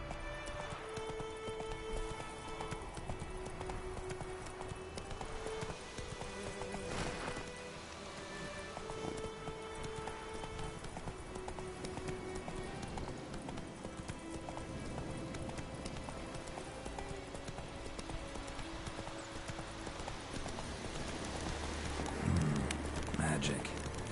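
Roach the horse gallops in The Witcher 3, with steady rhythmic hooves clip-clopping close by beneath a continuous game soundscape of music and ambience, with speech present.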